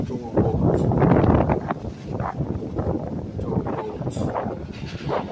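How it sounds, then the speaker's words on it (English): Gusty wind on a breezy day by the water buffets the microphone with a rough, rumbling low roar that swells and eases throughout, loud and close. "It's still a windy day, but it's a beautiful day."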